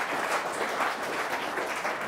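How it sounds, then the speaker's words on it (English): An audience gives a quick round of applause at a talk to business leaders, with steady, dense clapping held at an even level for about two seconds and no voices over it. "Give me a quick round of applause."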